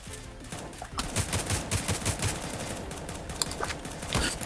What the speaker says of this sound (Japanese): 銃声鳴ってる。